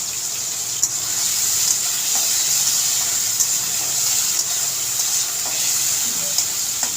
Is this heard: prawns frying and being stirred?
yes